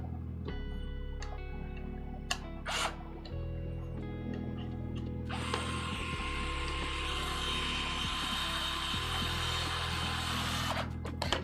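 Screws are driven into the plastic frame of a MOG RC truck kit, with a few scattered clicks and ticks and then a longer, harsh, grinding stretch of friction over a steady low hum.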